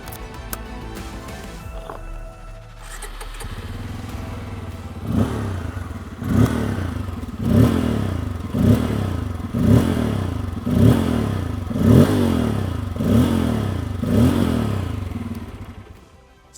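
A Bajaj Pulsar 250 motorcycle idles close by, then its engine is blipped in a steady series of about eight sharp revs, each rising and dropping back before the next.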